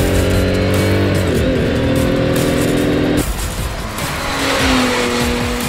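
A loud, high-revving V12 hypercar engine, revving to 10,500 rpm, screams through several gear changes, with a brief tire-squeal-like texture and continuous roaring throughout.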